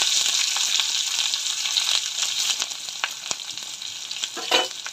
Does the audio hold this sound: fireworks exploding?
no